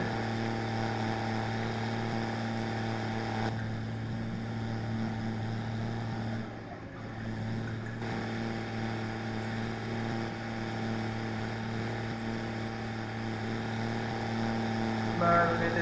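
Arjun 605 4x4 tractor ploughing a field in Farming Simulator 22, a continuous droning engine hum that holds steady at moderate volume for the whole stretch, with a brief dip midway.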